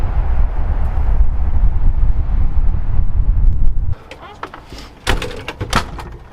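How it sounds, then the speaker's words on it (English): Strong wind roars and buffets outside a truck camper in the woods at 8,000 feet, a loud, rumbling wash of gusts that cuts off abruptly, followed by scattered knocks and a voice speaking quietly inside. "it's getting really windy"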